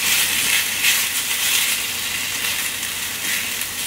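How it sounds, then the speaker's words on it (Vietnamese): Meat stir-frying in a pan, a steady bright sizzle and hiss close up and loud, continuous for the whole stretch with slight swells as it is stirred, with no talking. "Thì chỉ cần xào cho chín thịt xong rồi mình bỏ trứng vô thôi"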